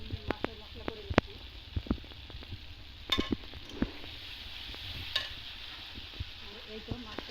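Spices fry and sizzle in a pan for fish bhuna while a utensil stirs and scrapes with frequent clinks, a constant crackle beneath the sharp, irregular taps.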